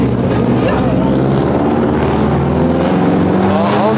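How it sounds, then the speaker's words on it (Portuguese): Cars roll through busy New York street traffic near Times Square, with a loud, steady engine drone and rumbling motors close by, with no break in the noise. "Olha os carros, que louco."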